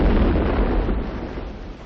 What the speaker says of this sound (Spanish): El crucero de guerra Aurora efectúa un disparo de salva.